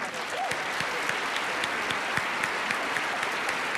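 A live audience applauds a singer before a swing band performance, with steady, full crowd clapping sustained throughout, close and even, with a few sharper individual claps popping out.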